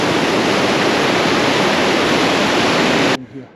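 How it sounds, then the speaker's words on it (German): Small waterfall beside a Großglockner mountain trail in the Austrian Alps, a steady, loud broadband rush of falling water close by that cuts off abruptly near the end, leaving quieter background. "Kleiner Wasserfall."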